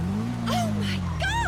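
A 1000cc turbo sports bike engine revs in GTA 5, a steady low drone swelling and holding under chatter and a rising whistling tone.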